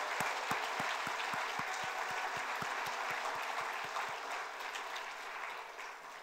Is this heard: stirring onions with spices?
no